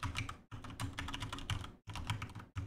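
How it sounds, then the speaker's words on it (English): Quick bursts of keystrokes on a computer keyboard as a username is typed, close and fairly quiet, in three runs separated by brief pauses. "Type in the username that was just created"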